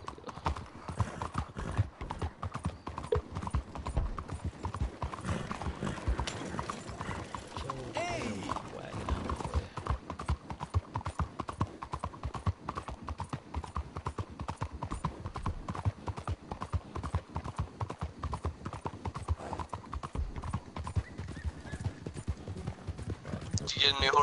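A horse gallops in a video game, fast rhythmic hoofbeats pounding without a break for over twenty seconds, with a voice talking now and then underneath.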